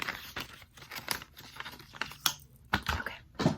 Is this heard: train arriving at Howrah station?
no